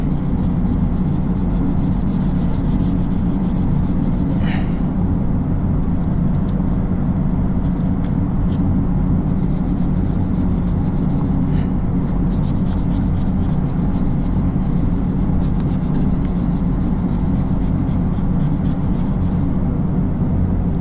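A Lexus CT 200h car body panel is block-sanded with 320-grit sandpaper, a continuous close, loud scratchy rubbing that keeps a steady stroking rhythm for the whole stretch.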